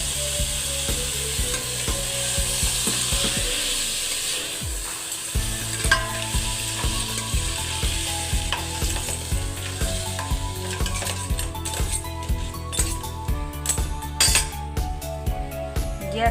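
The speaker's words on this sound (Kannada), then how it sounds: "ಈರುಳ್ಳಿ ಫ್ರೈ ಆದ ನಂತರ ಈಗ ಕ್ಲೀನ್ ಮಾಡಿ ಇಟ್ಕೊಂಡಿರುವ ಕ್ರ್ಯಾಬನ್ನು ಸೇರಿಸ್ತಾ" Cleaned crab pieces sizzle loudly in a pan of fried onions for crab sukka, with steady frying crackle, a brief lull, then renewed sizzling and repeated clinks of a spoon stirring against the metal pan.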